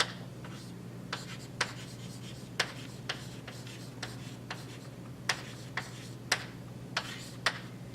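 A teacher writing on a classroom board, with a steady series of crisp taps and scratchy strokes spaced irregularly over a low room hum, close and clear.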